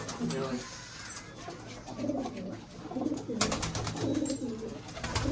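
Teddy pigeons perched up high coo in soft, repeated low calls at close range, with a person talking over them throughout.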